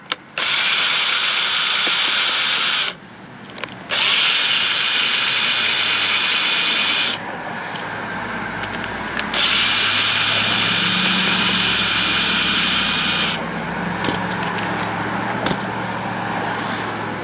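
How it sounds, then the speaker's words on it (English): A hammer drill fitted with a T20 Torx bit runs loud in three long bursts, working to remove a part during an exterior restoration; a mechanical ratcheting whir fills each run, with short pauses between. "This is a hammer drill."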